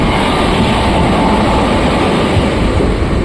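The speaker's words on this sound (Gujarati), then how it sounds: "બે એન્જિનવાળી માલગાડીઓ" A long goods train hauled by two engines rolls past close by, a dense, continuous loud rumble and rattle with no voices over it.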